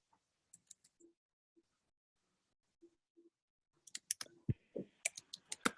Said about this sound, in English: I was just typing a response to the group chat.